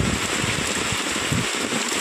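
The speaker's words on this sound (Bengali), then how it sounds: "মুষলধারা জল শুরু হয়ে গেছে বন্ধুরা" A heavy downpour makes a dense, steady roar of rain with no pauses, heard from someone standing under an umbrella.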